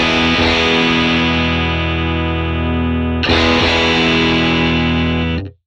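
An electric guitar runs through an Axe-FX III amp model with the gain near 3, giving a distorted chord that rings out, then a second strummed chord that sustains before cutting off abruptly.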